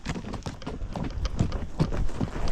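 Hooves of a Hispano-Breton draft horse clip-clop on a descending trail ride in the Serra de Tramuntana near Valldemossa, Mallorca, a quick uneven run of close, dull thuds.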